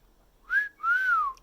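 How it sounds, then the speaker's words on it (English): A person whistles two clear tones in a row, a short rising note then a longer arching one, close and alone in a quiet room. "So this is me whistling every time."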